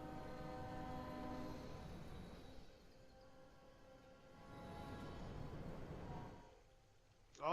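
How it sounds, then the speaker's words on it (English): Trains running on the lines in Railway Empire 2 pass by with a continuous rail rumble and sustained horn tones, easing off midway before building again, then a sharp sound at the end. "Lots of trains running."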